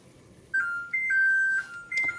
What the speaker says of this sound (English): I'm gonna go ahead and put on the timer for 2 minutes